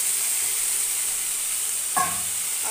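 Potato pieces and cumin seeds fry in hot oil in a pan, a steady close sizzle and hiss throughout with a brief stir or clink near the end, with no talking.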